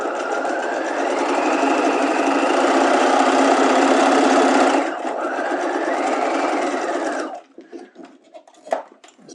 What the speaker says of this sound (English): let's go ahead and stay stitch each of our seam allowances at 1/4 of an inch